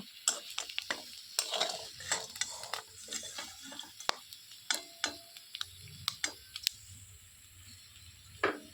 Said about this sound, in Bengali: পুরো মাছটাকে আমি লাল লাল করে একদম ভেজে নিয়েছি